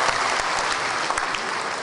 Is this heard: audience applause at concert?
yes